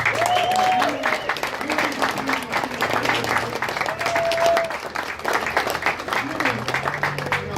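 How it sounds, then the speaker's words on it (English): People at the opening of the Democratic Unity Center in Brea, California clap together in a lively, continuous burst, with voices and a few cheers mixed into the applause. "Give yourself a round of applause."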